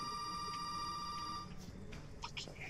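A telephone rings in the Resident Evil 7 video game, a steady electronic ring under low background ambience that fades after about a second and a half, followed by faint game sounds.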